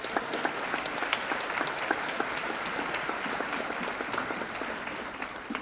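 A crowd of families and friends claps for 6th grade graduates at the Lloyd Harbor School moving-up ceremony, a steady wash of many hands with a few sharper individual claps.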